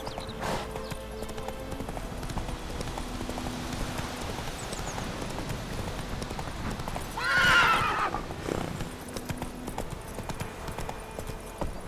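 Roach, the horse in The Witcher 3, galloping with steady rhythmic hoofbeats throughout and one loud whinny midway, over a game background.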